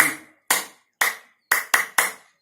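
Claps from hands slapped together for acupressure come in a counted rhythm: two evenly spaced, then a quicker run of three. Each one is sharp, close and loud, with no talking.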